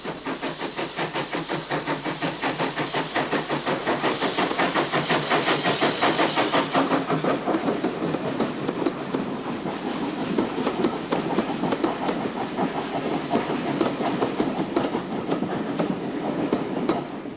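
A 1902 South Eastern and Chatham Railway C-Class 0-6-0 steam locomotive hauls a rake of 1920s Pullman cars on a heritage line, a loud, steady rhythmic chuffing and rolling clatter that stays close throughout.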